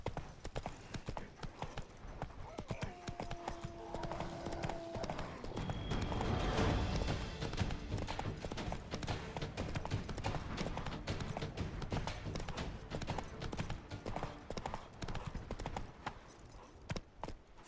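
Roach, the horse in the video game The Witcher 3: Wild Hunt, gallops with a fast, continuous clip-clop of hooves, loud and close throughout, over a bed of game ambience.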